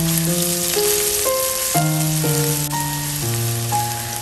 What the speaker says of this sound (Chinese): 接下来锅中加入葱姜蒜末